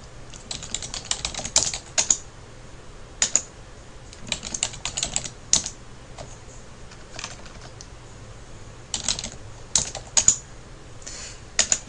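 Computer keyboard typing, quick bursts of clattering keystrokes separated by short pauses, close and clear with no talk.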